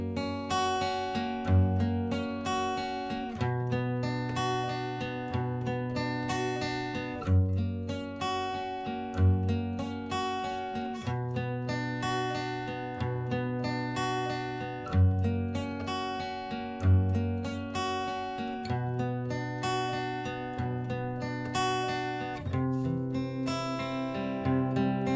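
An acoustic guitar plays a song's bridge, strummed and picked chords in a steady repeating pattern, close and clear with no voices.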